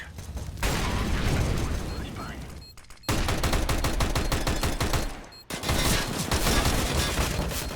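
Rapid gunfire bursts from the video game Counter-Strike, loud dense volleys of automatic shots broken by short pauses, heard up close without talking.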